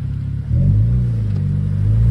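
A Renault Clio 4 RS, Stage 1 tuned to 250 hp with a stainless steel exhaust, idles with a low rumble, then revs up and holds a deep, throaty drone close by.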